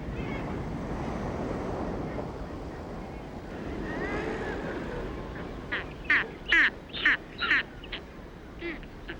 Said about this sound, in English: Hermanus is breeding ground for a ruthlessly efficient predator and pirate, the great Skua.